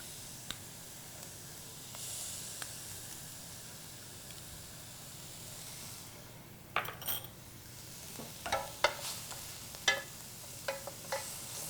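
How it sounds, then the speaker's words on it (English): Minced garlic sautés with onion in a pan, with a soft, faint sizzle that is joined midway by scattered clicks and scrapes of stirring. "So I'm going to go ahead and add my garlic"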